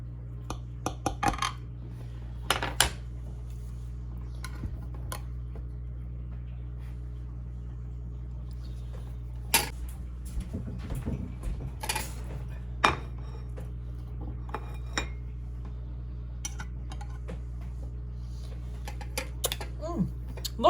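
Knife cutting a corner piece from a baked dish in an ungreased pan, sparse scraping and clinking taps against the pan over a low steady hum, faint and intermittent.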